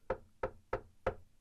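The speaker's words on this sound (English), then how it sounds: "there was a knock" Four evenly spaced knocks on a palace door, a sound effect in a children's fairy-tale story, each a crisp, hollow wooden rap, close and fairly quiet, with nothing else around them.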